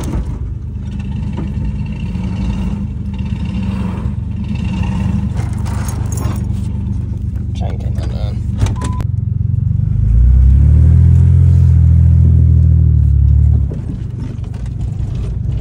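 A manual car's engine rumbles steadily while driving, swelling into a louder low revving surge for a few seconds before settling back to a cruising drone.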